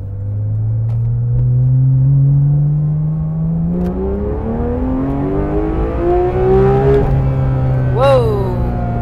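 A 2019 Porsche 911 GT3RS engine accelerates hard, its tone climbing steadily through rapid gear changes with a sharp high rev near the end, loud and close from inside the car, with voices around it.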